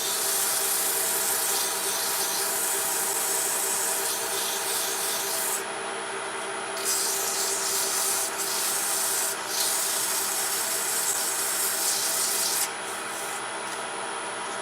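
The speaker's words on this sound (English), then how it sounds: "Now I'm going to sand the cavity as well. While I'm here, I'll start with 220 grit." Sandpaper of 220 grit rasps around the inside cavity of a turned wooden salt box. The scratching is close, loud and continuous, with a slight rise and fall in pitch as the paper moves, and no voices.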